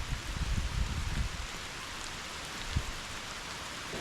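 Rain falls steadily outdoors, a soft even hiss of drops with a few louder patters close by, fairly quiet and with no one talking.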